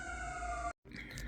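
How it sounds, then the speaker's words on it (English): A faint, steady siren wails in the distance, briefly cut off by a moment of silence before background noise resumes. "sorry about the siren in the background"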